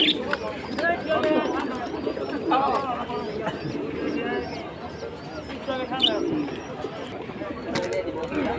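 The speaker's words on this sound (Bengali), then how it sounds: "এই খাঁচায় সুন্দর সুন্দর দেখুন কিছু কবুতর আছে নর্মাদি একসাথে" Caged pigeons at a busy pigeon market coo and chirp close by, mixed with constant crowd babble and people talking throughout.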